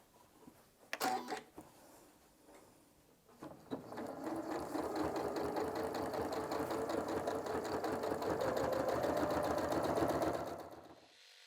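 A home sewing machine quilting rows of fabric starts after a few handling clicks, then runs in a fast, steady mechanical chatter close to the mic for several seconds before stopping.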